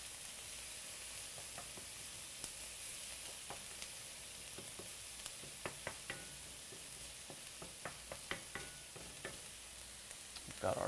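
Onions frying in a pan as filling for zucchini quinoa burgers, a quiet steady sizzle with scattered crisp pops and occasional utensil taps, growing busier toward the end.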